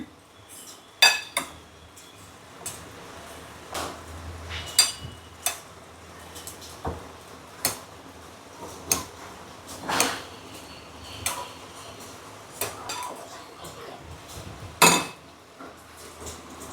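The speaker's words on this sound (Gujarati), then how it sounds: "સાથે થોડો મરી પાવડર અને આ બધી વસ્તુનું બરાબર મિક્સ કરી દઈશું." Corn bhel ingredients are mixed with pepper powder in a bowl, a spoon clinking and tapping against it in irregular bursts over a faint background, fairly quiet and unhurried.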